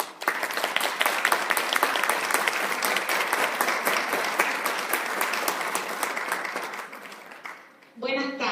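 Strong, sustained applause from a seated audience at a gynecological health conference in Calama, Chile, dense and even before fading out, followed by a voice starting to speak.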